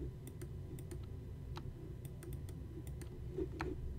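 A computer mouse used without a mouse pad, sharp scattered clicks in irregular bursts over a low, rough scraping and rumbling as it drags across the desk.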